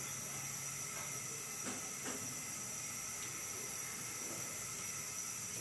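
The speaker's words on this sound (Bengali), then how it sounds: "চুলাটা অন করে দিলাম।" A gas stove burner is lit under a kadai and gives a steady, even hiss. The hiss runs unbroken and at moderate level throughout, with a few faint clicks.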